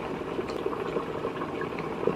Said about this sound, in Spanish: ahí está hirviendo